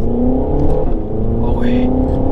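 A Renault Megane 4 RS Cup engine drones loudly from inside the car, a steady rising engine note with a faint whine throughout.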